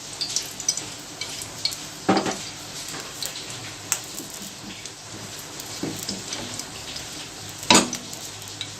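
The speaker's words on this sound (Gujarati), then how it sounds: "આપણે વઘાર કરવા માટે પેનમાં ઓઇલ લઈશું।" Oil heating in a pan for tempering coconut chutney, a faint crackling sizzle with scattered pops and spits, close and without talk.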